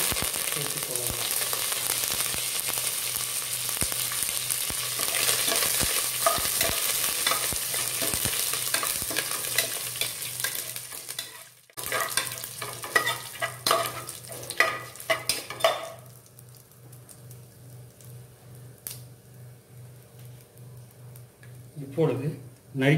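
Clove leaf, mustard seeds, cumin, fennel and curry leaves sauté in hot oil with a steady loud sizzle and crackle, stirred with scrapes against the pan, later quieter with a few clinks and voices in between.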